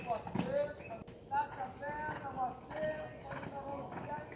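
Horse hooves cantering in a rhythmic clip-clop during show-jumping riding training, fairly faint and distant, under someone speaking Portuguese.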